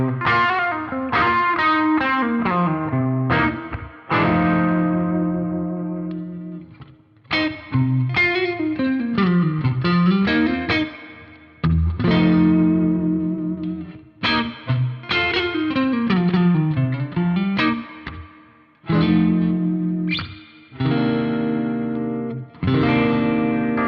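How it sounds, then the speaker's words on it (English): An Aria Pro II J-1 electric guitar plays clean tones, cycling through its pickups with strummed chords and descending runs, separated by short pauses, loud and up close with no voice. "Let's take a tour of the way this guitar sounds. We're going to start with some clean sounds"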